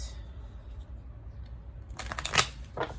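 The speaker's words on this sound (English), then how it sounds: "We're just doing a bit of shuffling." Tarot and oracle card decks being shuffled by hand, soft riffling and flicking of cards in a quiet room, with a brisker burst of shuffling near the end.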